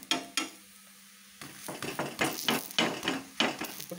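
Bajji frying in hot oil in a pan gives a soft background sizzle, broken by repeated metallic clinks and scrapes of a utensil stirring and lifting the pieces, with a short quiet gap near the start.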